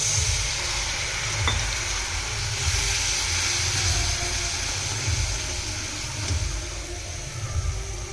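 Water poured into a hot frying pan of sandge (sun-dried lentil dumpling) curry base, sizzling steadily and loudly throughout with a continuous hiss and low bubbling rumble, no talk.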